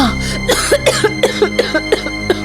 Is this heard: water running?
no